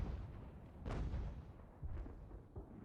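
Distant cannon fire from artillery in an American Revolution battle game: a low, muffled boom around the one-second mark and a second softer thud near two seconds, over a steady rumbling battlefield background.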